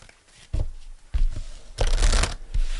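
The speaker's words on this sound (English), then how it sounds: "I'm going to pull you an angel card." Tarot-style angel cards are drawn and shuffled by hand, giving soft papery riffles and brushing slides in several short bursts that build to a fuller flurry, heard close up with no voices.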